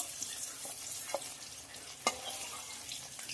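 Paneer frying in a pan with a little sour curd, a faint steady sizzle with a few light scraping stirs, close and without talk.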